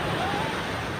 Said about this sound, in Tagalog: Mga humahampas nga mga balud sa dagat.